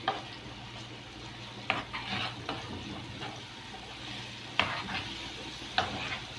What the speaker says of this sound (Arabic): وبحط معلقه من الثوم المفروم، واقلبه كده فيها كويس